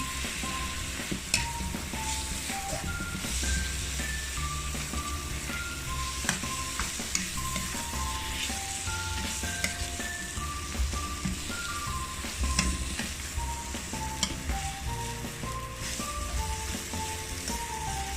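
A mixture being stirred and dry-roasted in a pan for Thai-Lao khanom chin, a continuous sizzle with steady scraping and clinking of the utensil against the pan throughout, close and moderately loud while music plays underneath.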